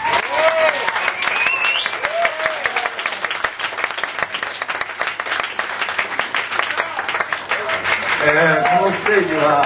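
At a 2011 winter live concert, the audience gives a guest a sustained round of applause, with dense clapping throughout and occasional voices and tonal calls rising over it.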